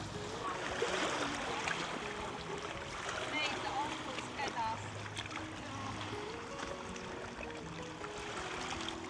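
Water sloshes and swirls around legs as someone wades through shallow sea water along a sandy beach, a steady churning wash with gentle surf behind and a voice talking at times.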